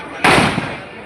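A single loud, sharp bang of a firecracker goes off nearby at a Karthigai Deepam festival bonfire and decays into a brief rumbling echo.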